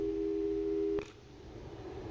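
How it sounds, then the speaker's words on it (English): A steady telephone call tone in the Portal 2 video game holds for about a second, then cuts off abruptly with a brief click, leaving low background hum. "let's give your parents a call right now"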